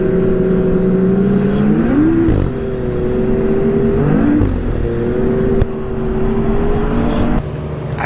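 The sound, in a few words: 900 ACE Turbo R snowmobile engine revving with blow-off valve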